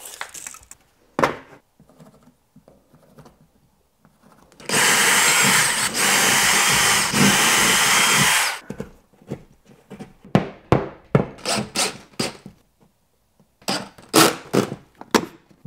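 A cordless power drill drives screws to fix an EV charger mounting plate to a wall: one long whirring run of about four seconds, scattered with short taps, clicks and handling knocks before and after, close up.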